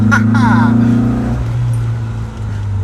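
A 1970s Opel Ascona rally car engine drones steadily from inside the cabin, with a strong low hum and a slight rise and fall in pitch, while a voice calls out over it early on.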